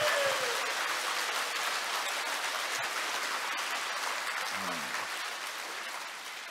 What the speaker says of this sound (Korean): 주님께 영광 박수.